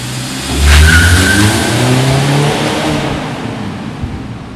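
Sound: Mazda 6 2.5 car accelerating on highway

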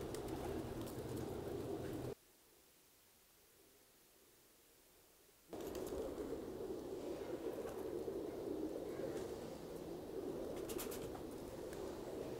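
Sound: pigeons cooing

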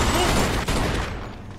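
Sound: gunfire from the video game Mafia 2

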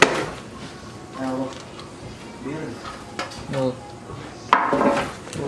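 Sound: cake pan flipped over onto a vessel

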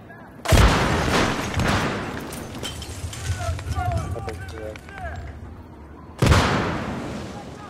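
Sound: gunfire in a video game

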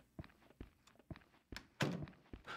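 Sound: door closing in horror video game Rental

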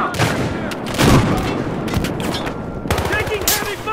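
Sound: gunfire in a shooter video game

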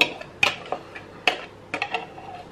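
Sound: stirring egg and oil mixture in a bowl

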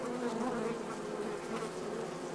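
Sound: flies buzzing in an Oculus Rift VR game

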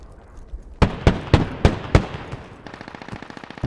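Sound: gunfire in the video game Squad

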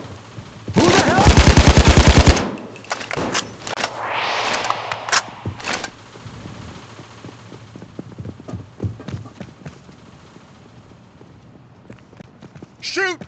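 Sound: gunfire in video game Payday 2

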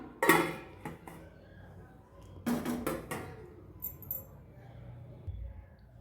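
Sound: lid placed on cooking pot of chicken

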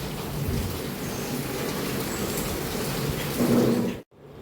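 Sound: rain

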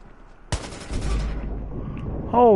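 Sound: gunfire in the video game Watch Dogs

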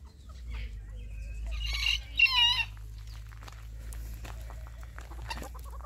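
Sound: chickens and a rooster in a zoo enclosure

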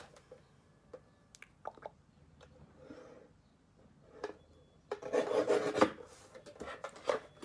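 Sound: paper trimmer cutting cardstock

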